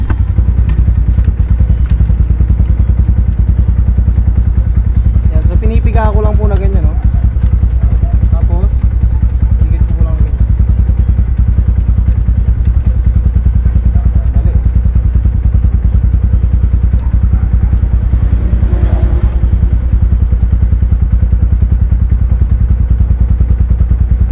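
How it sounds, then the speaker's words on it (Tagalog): A motorcycle engine idles steadily and loudly up close throughout, with someone talking over it now and then. "so pinandar ko po yung motor natin"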